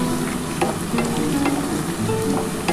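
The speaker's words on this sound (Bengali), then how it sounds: "দেখো, আমার পেঁয়াজটা কিন্তু ভাজা হয়ে এসছে।" Onions fry in a pan for a chicken kosha, with a dense, loud and continuous sizzle. Short scraping stirs break in every half second or so, and no one speaks.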